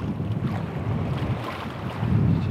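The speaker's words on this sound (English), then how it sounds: "the waves are crashing a bit now" Waves wash onto the shore at Southsea at night, a continuous rushing surf mixed with wind buffeting the microphone, swelling louder toward the end.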